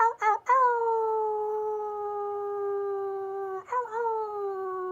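A person's voice imitating a wolf howl: a few short rising yips open into one long sustained howl, then a second howl starts near the end, loud and close with no other sound.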